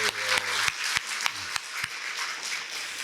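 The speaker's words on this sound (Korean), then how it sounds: "할렐루야. 뜨거운 박수" Church congregation applauding during a sermon, a faint, steady wash of hand claps with a few sharper individual claps standing out, heard from a distance for about three seconds.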